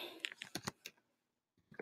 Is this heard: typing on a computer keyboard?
yes